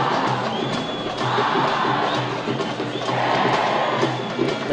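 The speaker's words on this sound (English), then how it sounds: "The 20 schoolboys cheering their side" Twenty schoolboys cheer for their side at a limited-overs school cricket match, a loud, steady crowd roar with rising swells of shouting throughout, close by and continuous.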